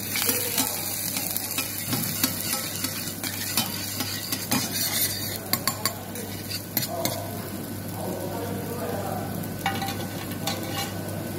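Garlic sizzles steadily in hot butter in a pan while a utensil stirs and scrapes, with intermittent clinks of metal against the pot over the continuous frying hiss.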